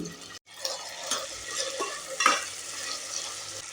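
Tomatoes, mint and salt fry in oil for tomato rice, a soft sizzle under brisk spatula stirs and scrapes against the pan, with one sharper clink partway through.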